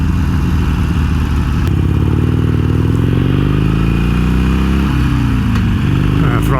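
A motorcycle engine with a slightly sticky throttle runs close and loud, its pitch rising and falling as it is revved, a steady mechanical rumble throughout.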